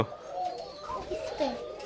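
Pigeons cooing inside a pigeon farm in winter, soft rolling coos close by in a short burst, with a voice faintly present.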